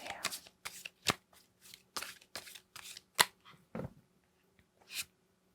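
Tarot cards are shuffled by hand in a string of short, crisp riffling bursts separated by brief pauses. The sound is close and fairly quiet, and no one speaks.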